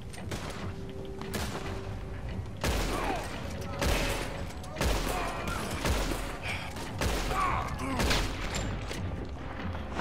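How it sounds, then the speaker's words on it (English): Gunfire in the video game Red Dead Redemption 2, with repeated loud shots and booms echoing over game ambience, while players talk over the action. "Oh, they're shooting at us."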